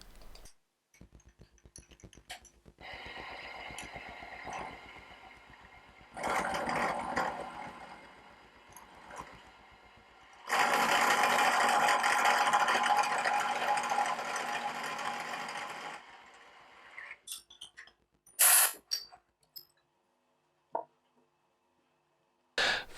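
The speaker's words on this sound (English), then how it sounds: "The plate was clamped down onto a couple of 2mm thick spacers before milling each end" A milling machine cuts each end of a metal plate clamped on 2mm spacers, running in two sustained bursts with a steady mechanical whine and hum, then shutting down into a few brief clicks and clanks.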